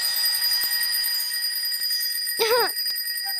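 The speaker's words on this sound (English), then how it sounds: "If you're about to do something wrong, your bell will ring like this." Noddy's cartoon warning bell gives one short, bright ring-a-ling trill over a faint musical background.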